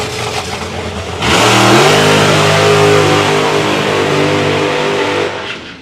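The Chi-Town Hustler, a 1970s drag racing funny car, fires up and revs hard, a sudden loud blast of engine noise that rises and holds with throttle blips before cutting off near the end.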